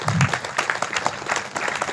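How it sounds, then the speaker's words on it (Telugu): An audience at a meditation gathering applauds loudly and continuously, dense clapping from many hands filling the room without a break. "ఒకసారి ఆయనకి ఇంకొకసారి గట్టిగా క్లాప్స్ కొడదాం."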